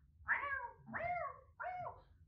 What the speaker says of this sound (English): there is a cat chasing a mouse